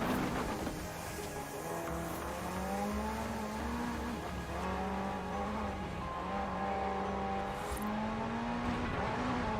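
A GTR supercar engine in Forza Horizon 4 revs up hard through several rising gear pulls, each pitch climb broken by a quick shift, loud and continuous with no talk.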